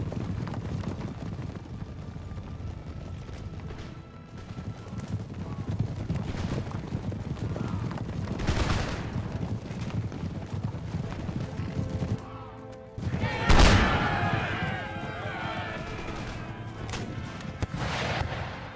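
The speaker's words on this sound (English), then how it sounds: "Oh, the enemy cavalry charging in" Enemy cavalry charging in a Napoleonic-era battle in Empire: Total War, with a steady rumble of many hooves under booming artillery and gunfire, loud and continuous, with heavier blasts near the middle and later on.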